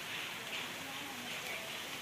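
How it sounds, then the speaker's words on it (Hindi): Heavy rain falls without pause, a steady close hiss of water pouring down after two days of continuous downpour, with no clear voices over it. "आप देख सकते हैं मेरे पीछे अभी भी पानी बरस रहा है।"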